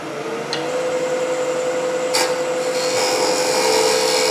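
A lathe turns a small jewelry piece, giving a steady high whine with a constant hum and a broad hiss of cutting, and a few brief scraping bursts as the tool touches the work.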